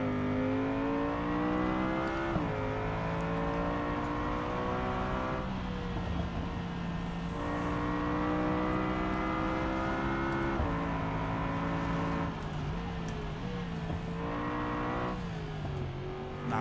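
Simulated race car lapping the Nürburgring in BeamNG, a continuous loud engine howl with repeated gear shifts, rising and falling revs as it brakes and accelerates through corners, alone without talk.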